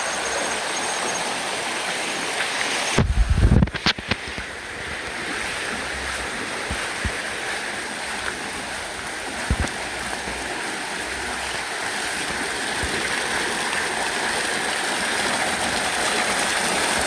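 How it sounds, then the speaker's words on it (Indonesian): A small, clear river flows through green countryside with a steady, full rushing and babbling that stays constant throughout. A brief knocking bump occurs near the start, and nobody speaks. "Nah ini nih sungai yang sempat saya bicarakan tadi ya sahabat, sungai kecil ya."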